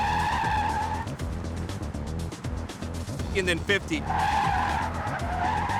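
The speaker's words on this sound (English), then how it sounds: "I'm gonna take this car and I'm gonna skid at 30" A car skids under hard braking, once from 30 mph and again from 50 mph, its steady tire squeal loud and close. Someone talks over the skids.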